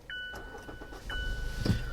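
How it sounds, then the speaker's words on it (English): A 2019–2020 Mazda CX-5 is switched off and back on, with two electronic chimes, soft button and cabin clicks, then a low engine rumble as it restarts, close and moderately loud with no talk. "I'm actually going to turn off the car and turn it back on"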